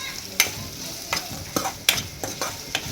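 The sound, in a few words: stirring a spice mix into a simmering vegetable curry (saaru)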